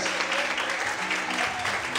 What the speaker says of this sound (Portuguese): Mais forte as palmas para o Senhor, aleluia.